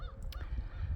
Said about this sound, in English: The geese are comical too.